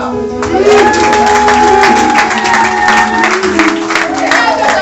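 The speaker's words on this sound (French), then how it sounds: "Est-ce qu'on peut applaudir?" A church congregation applauds and cheers loudly over sustained organ or keyboard chords, a dense wash of clapping and crowd noise with voices mixed in throughout.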